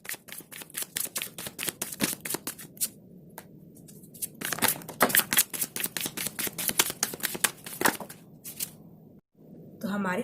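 Tarot cards are shuffled by hand in quick, crisp riffling bursts, close and fairly loud, with brief pauses between runs of rapid flicking.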